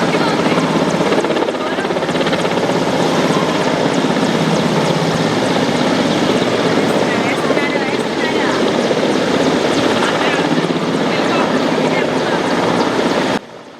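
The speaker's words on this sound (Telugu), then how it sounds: "సివిల్ ఏవియేషన్ డిపార్ట్మెంట్ వాళ్ళు ఇలా హెలికాప్టర్స్లో ప్రభుత్వం అందించిన ఆహారపు సంచుల్ని ఎత్తైన భవనం మీదకి ముందు డ్రాప్ చేసి" A helicopter flies low over a flooded area, dropping bags of food onto rooftops, its rotor thudding and engine roaring loud and steady throughout before cutting off at the end.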